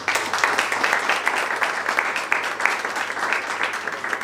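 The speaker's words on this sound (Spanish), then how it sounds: "un aplauso para José" Audience applause greeting a lecturer at a talk, a dense burst of many people clapping continuously at moderate loudness with no voices over it.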